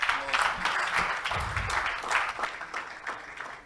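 Guests at a Nigeria at 61 colloquium applaud a speaker, a moderately loud, uneven round of clapping from a room of people that holds steady before easing slightly toward the end.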